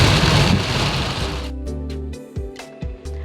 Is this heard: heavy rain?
yes